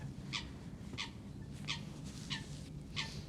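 A duck quacks five times in an evenly spaced series, each call short and nasal, heard fairly faintly over quiet outdoor background hum.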